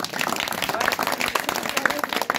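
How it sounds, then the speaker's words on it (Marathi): Students clap at a prize distribution program, a brisk burst of scattered applause from a seated crowd with a few louder individual claps. "जोरदार टाळ्या झाल्या पाहिजे माझ्या"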